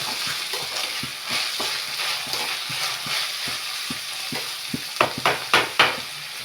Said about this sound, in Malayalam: നമ്മുടെ പുളി ഇവിടെ തിളക്കൽ തുടങ്ങിയിട്ടുണ്ട്.